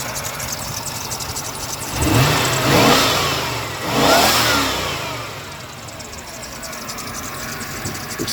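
A 1996 Cadillac Fleetwood engine runs with a noisy belt, holding a steady mid-range drone with two louder swells of revving around the middle. The car is close, and there is some background talk-like noise.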